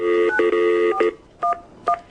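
Telephone dialing tones: a run of loud keypad beeps, several sustained tones in quick succession followed by two shorter separate beeps.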